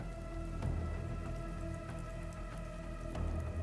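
Rain falling in the game Arknights Endfield, a steady patter of drops on surfaces with occasional soft splashes, continuous and fairly quiet under a low tonal hum, with no talking.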